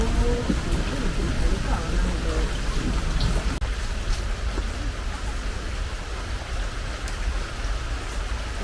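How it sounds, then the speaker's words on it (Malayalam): Steady monsoon rain falls continuously around a rural home, a dense hiss that stays loud throughout, with faint low thunder in the background and a voice briefly speaking near the start. "മഴ മാത്രമല്ല ചെറിയ ഇടിയുണ്ട് കാറ്റുണ്ട്"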